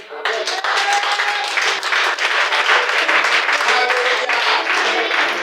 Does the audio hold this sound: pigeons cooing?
no